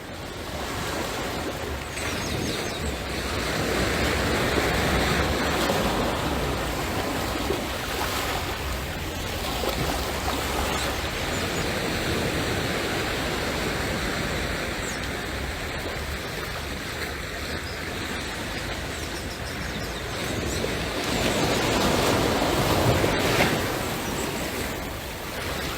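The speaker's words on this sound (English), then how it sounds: "Just watch the surging and the gentle motion of this water and listen to these sounds." Sea water surges against the shore at Six Mens Bay on Barbados' coast, a continuous broad roar of waves with swells rising and falling, wind brushing the microphone.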